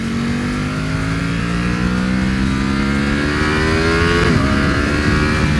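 An Aprilia Tuono 1100 Factory motorcycle engine pulls hard while being ridden, its loud revving tone climbing steadily through a gear before a quick shift drops the pitch and it builds again.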